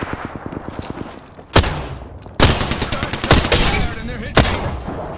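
Gunfire in an Apex Legends match: rapid automatic bursts up close, then sharp loud single shots and a dense sustained volley, with a near-continuous game soundscape beneath.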